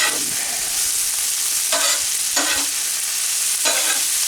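Loud, steady sizzling of food with oil, salt and pepper in a frying pan at a forest campsite, broken by a few short scraping stirs, with no one talking.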